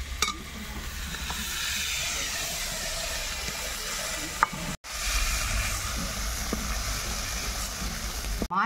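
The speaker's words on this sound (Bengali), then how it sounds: "মাছগুলোকে আমি সুন্দরভাবে ভেজে নিয়েছি, এবার তুলে নেব।" Fish frying in hot oil in a pan, a steady close hiss and sizzle that runs almost unbroken, cutting out for a moment midway before resuming.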